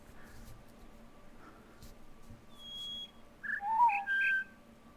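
Bird whistles in a puzzle video game, with a long thin tone and then a quick cluster of bright overlapping chirps near the end after a quiet, soft-thudding lead-in.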